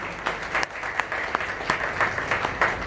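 An audience at a large public gathering in Surat, Gujarat claps loudly and steadily, with dense sustained applause carrying sharper individual claps throughout.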